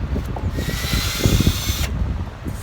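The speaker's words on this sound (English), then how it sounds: "I'm gonna have to pre-drill the holes." Power drill pre-drilling screw holes, a short high-pitched whirring burst of under two seconds, fairly close and moderately loud, with some handling clatter around it.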